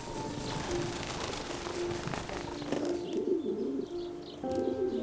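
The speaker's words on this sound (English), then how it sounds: "Many amateur breeders keep racing pigeon lofts." Racing pigeons cooing in a loft, soft low repeated coos layered with faint chirps and a steady background hum, no voices.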